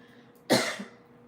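A single sharp cough, close and fairly loud, breaking a quiet background and trailing off within half a second.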